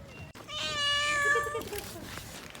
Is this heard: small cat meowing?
yes